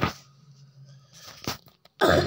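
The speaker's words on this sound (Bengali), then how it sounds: "তোমাদের ভাইয়ের কাশি হয়ে গিয়েছে" A man coughs in short bursts, a hard cough at the start, another near the middle and a loud one at the end, close to the microphone with quiet hum between.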